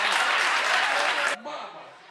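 Audience applause fills a live anniversary show, loud and dense for over a second before cutting off abruptly, leaving quieter room tone and a trailing voice.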